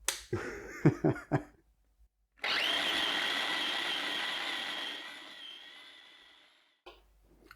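A blender whizzes chorizo spread in a Tenerife-style kitchen, a loud sustained whir lasting about four seconds after a few sharp knocks of the lid being fitted, then cutting off abruptly.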